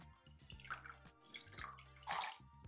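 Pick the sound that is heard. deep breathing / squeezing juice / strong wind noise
squeezing juice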